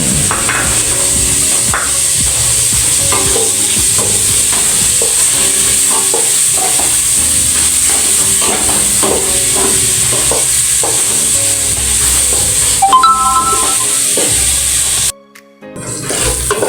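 Peeled salted prawns stirred in a pan for a shrimp and ham carbonara, a loud continuous sizzle with repeated scraping stirs and clinks, cutting off abruptly near the end.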